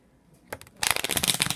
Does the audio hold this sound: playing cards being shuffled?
yes